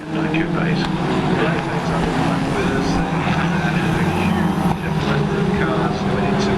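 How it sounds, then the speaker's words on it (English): Racing cars circle Cadwell Park circuit at a Tricolore Trophy meeting, their engines a continuous mid-distance roar rising and falling as they pass, with a commentator talking over it. "Cars going into the mountain."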